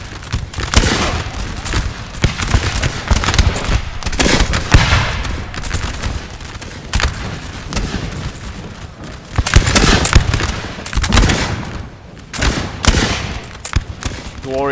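Musket volleys from infantry lines in Napoleon Total War's 1810 Battle of Fuengirola crackle in dense, overlapping bursts throughout, loud and continuous, with heavier swells of concentrated fire rising and falling, and no voices.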